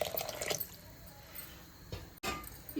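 Water pours and splashes into a pot of basmati rice for mutton biryani, a soft wet trickle with a short gurgling burst near the end.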